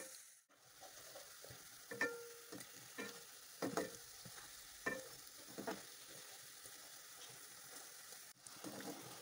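Semolina gulab jamun fry in oil, a faint bubbling sizzle punctuated by irregular light taps and scrapes as the balls are gently turned over, quiet throughout.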